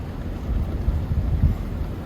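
Strong wind blows outdoors on a hunting drive in deer and moose country, a steady low buffeting rumble across the microphone that swells and gusts throughout, with no voices.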